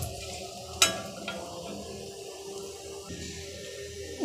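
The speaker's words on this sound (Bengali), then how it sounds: "তেলটা গরম হয়ে আসলে দিয়ে দিচ্ছি কয়েকটা এলাচ, দারচিনি, তেজপাতা, লং। এবার এগুলোকে একটু ভেজে নেব।" Whole cardamom, cinnamon, bay leaf and cloves frying in hot oil, a low steady sizzle with a sharp metallic clink and light stirring noises, no talk.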